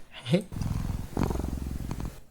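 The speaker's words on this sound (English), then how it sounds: "Cute cat sounds." A cat in an indie horror video game makes a short, close, rumbling purr that swells and trails off.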